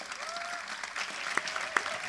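Audience applause after a talk by tabla player Fazal Qureshi, a soft, fairly distant patter of clapping from a modest crowd, with a few sharper claps standing out near the end.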